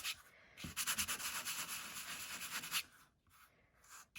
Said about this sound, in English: I'm going to grab my little sanding block again, and I am going to scuff this up.